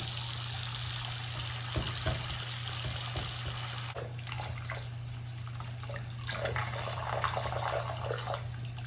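A 1970s childhood dollhouse is washed with soap under running water, with steady splashing and trickling close by, a burst of rhythmic sloshing early on, then lighter dripping and swishing.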